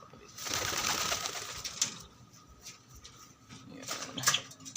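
Pigeons cooing nearby in soft, repeated low calls, with some rustling and flutter around them in a fairly quiet setting.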